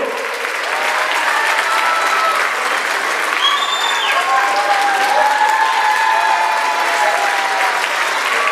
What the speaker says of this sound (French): Donnez un applaudissement pour les ados